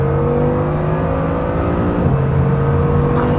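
Hypercar accelerating hard on the Autobahn from about 200 km/h, a loud, sustained engine drone rising in pitch, with a brief gear-change dip midway before climbing again, no talking.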